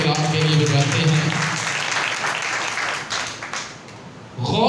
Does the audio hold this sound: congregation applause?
yes